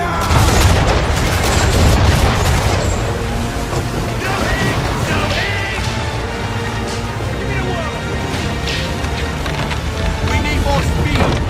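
Naval cannons firing in Assassin's Creed 3 during a ship battle at sea, loud booming blasts over rushing waves and creaking, with shouted voices in the mix.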